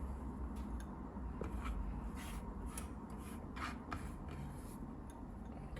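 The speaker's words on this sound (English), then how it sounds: "Let's begin by first shredding some carrots." Carrots are shredded on a kitchen grater for eggrolls: faint, quiet rasping strokes in an irregular rhythm against a soft background hiss, with no voices.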